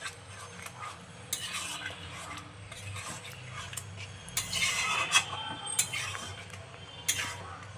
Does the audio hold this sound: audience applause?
no